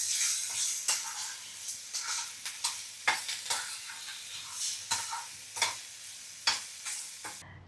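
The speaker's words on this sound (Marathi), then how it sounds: "त्याच्यामध्ये ह्या बटाट्याच्या फोडी टाकायच्या चवीनुसार मीठ टाकायचं आणि परतवून घ्यायचे" Potato pieces are stir-fried with salt in a pan, a soft sizzle under repeated scraping and clinking strokes of a spatula against the pan in an irregular rhythm, close up and alone.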